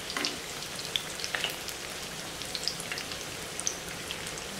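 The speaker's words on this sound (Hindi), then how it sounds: "अभी इसको हल्के से पलटी कर लेते हैं और धीमी आंच पे हमें इसको ज़्यादा से ज़्यादा फ्राई करना है" Chinese pocket samosas deep frying in hot oil over a low flame give a steady, dense sizzle with scattered sharp pops and crackles, fairly loud and close with no talking.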